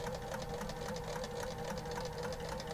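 A quilting machine stitches across a large quilt on a small frame, giving a steady, fast mechanical whir and rapid needle rhythm, close and continuous throughout.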